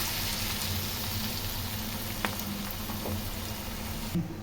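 Hand-patted lumps of snack dough bubble and sizzle in hot oil, a steady dense frying hiss that stays close and even throughout with faint occasional pops.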